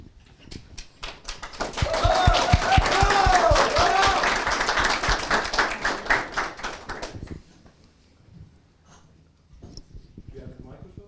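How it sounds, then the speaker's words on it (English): A crowd claps and cheers for a student youth band in a loud burst of applause lasting several seconds, then fades to quiet room sounds with a few soft voices. "a big round of applause to our students"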